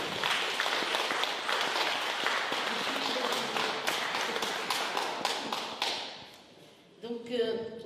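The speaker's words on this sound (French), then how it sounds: "on peut les applaudir" Audience applause at an exhibition event honouring market volunteers, a dense burst of clapping that thins into scattered claps and fades out, with speech rising at the end.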